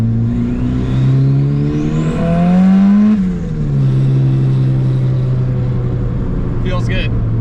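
Turbocharged Honda Civic EK engine revving up in a smooth climb, then easing off and settling into a steady drone, heard from inside the car with a faint whoosh near the end.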